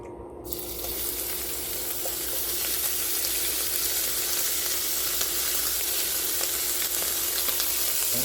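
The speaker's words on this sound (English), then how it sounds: "I'm going to add our oil and bacon, so we're going to got plenty of oil there. Smoking, that's fine, you know. And we're going to throw our bacon in." Bacon frying in plenty of smoking-hot oil in a saute pan, a steady dense sizzle that starts loud and holds constant throughout, close and alone with no talking.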